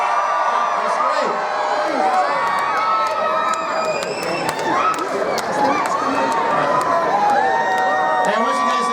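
A crowd of pass members at a Busch Gardens theme park preview day screams and cheers continuously, with shrill whoops and children's shouts rising and falling over a dense roar of voices.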